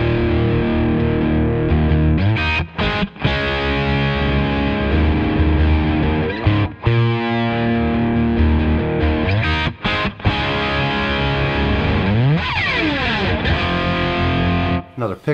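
High-gain distorted electric guitar playing a song, loud chugging chords and pick slides with brief stops between phrases, the instrument alone and close.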